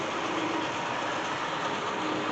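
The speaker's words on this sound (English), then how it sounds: "here comes our freight train headed northbound" A model freight train runs northbound over a gorge on a layout during a Fourth of July special run, a steady rumbling hum with a faint tonal whine that holds evenly throughout at moderate level.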